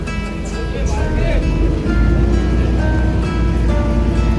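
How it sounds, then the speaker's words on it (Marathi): A ferry boat moves across the sea near the Gateway of India in Mumbai, giving a steady low engine rumble mixed with water wash, close and continuous, while people talk over it. "आता ही फेरीबोट पुढे जाते आहे."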